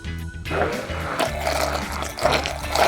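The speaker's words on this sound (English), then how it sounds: "you might be using a regular blender or like a food processor" A blender whirs loudly with a churning, gurgling roar as wet paper pulp spins, sustained and close up with low pulsing motor tones.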